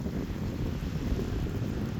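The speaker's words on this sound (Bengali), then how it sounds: "দেখেন কিরকম বাতাস, মনে হয় তুফান আসতেছে। অনেক বাতাস" Strong, steady wind roars and buffets the microphone at night before a storm, a dense continuous rush with no other clear sounds.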